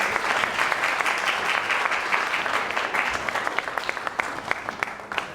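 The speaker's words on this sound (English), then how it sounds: "and his daughter, Ella Laviera, please give us an applause for them." Audience clapping at a welcome reception for a Puerto Rican soundscapes event, a steady dense round of applause from a crowd with sharp individual claps standing out, thinning slightly near the end.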